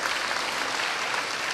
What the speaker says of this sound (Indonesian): Tepuk tangannya meriah buat Allah